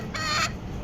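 A single short, bright cluck rings out from a chicken among a group of farm chickens, brief and fairly close with no talking.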